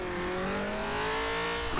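Rally car engine revving hard and steady at the start of a procedurally generated stage in the gRally racing game, a continuous loud roar with rising harmonic tones and no talk.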